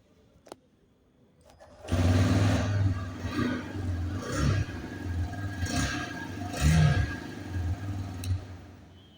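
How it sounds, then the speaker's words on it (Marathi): A TVS Raider 125 motorcycle engine starts in neutral inside a showroom, then idles with a steady thrum and a few light throttle blips, close and moderately loud. "आता मी तुम्हाला या बाईकचा साऊंड ऐकवतो."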